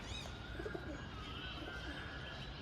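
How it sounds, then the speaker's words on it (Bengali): Ash-coloured male homer pigeons coo softly in a loft, low rolling murmurs mixed with faint chirps from other birds against a steady, muffled background hum. "আপনাদের কাছে নিয়ে এসেছি একটি অ্যাশ কালারের জিরিয়া হোমার নর পায়রা"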